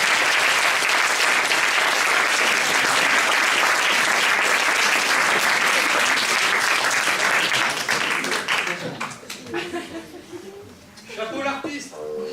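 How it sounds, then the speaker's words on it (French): An audience applauds a special guest musician at a talk-show-style event, with loud, dense clapping for about nine seconds that then thins out and fades among scattered chuckles and voices. "Oui, vous pouvez applaudir."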